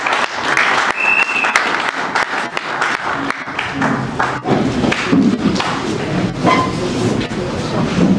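Dense, loud applause from party militants at a political gathering, a steady wash of many hands clapping close by with scattered shouts and voices mixed in throughout.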